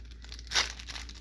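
A plastic blister pack of trading cards is torn open, giving one short crinkling rip with faint rustling before and after, close and otherwise quiet.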